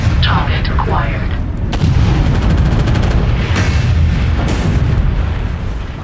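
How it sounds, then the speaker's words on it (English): In the MechWarrior 5 video game, an AC-20 autocannon fires and its shells burst in a dense run of booming blasts and rapid crackling impacts, loud and close, with layered rumbling explosions throughout. "That was the AC-20 going off. And here is the burst."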